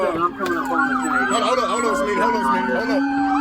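An ambulance siren wails steadily through a Georgia street scene captured on police bodycam, its rising and falling tone continuous and loud for the whole stretch, with background road noise beneath.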